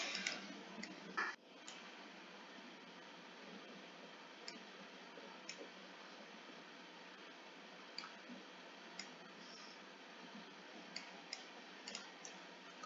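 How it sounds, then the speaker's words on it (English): Computer keyboard clicking during keyboard shortcuts, sparse faint clicks and taps scattered over a quiet background, with a brief busier burst near the start. "so I'm having to use the keyboard shortcuts"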